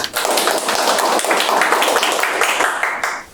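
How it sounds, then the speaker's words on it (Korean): Audience applause at an academic conference panel session, a dense burst of many hands clapping that fills the room steadily for about three seconds, then cuts off. "함께 박수 부탁드리겠습니다."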